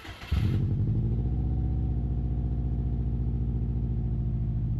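A Subaru car's engine and exhaust start up and settle into a loud, rumbling idle, with a steady throaty drone and a faint rattle, heard close to the exhaust and with no talk.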